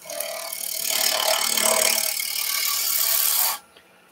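Woodturning gouge rolled on its side cuts a spinning wood blank on a lathe, a loud, steady scraping shear lasting about three and a half seconds before stopping abruptly.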